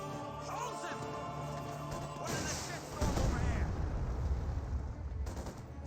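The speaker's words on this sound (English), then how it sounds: "Rifle grenade firing" Rifle grenade fired in a Company of Heroes 2 battle: a sharp launch followed by a heavy, booming explosion and crackling debris amid ongoing distant gunfire, with a voice talking over it.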